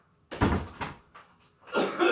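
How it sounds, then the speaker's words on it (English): A door being opened indoors: a couple of close wooden knocks and handle clunks, then a rushing creak and sweep as it swings open, fairly loud with no talk. "You're lucky I'm opening the door."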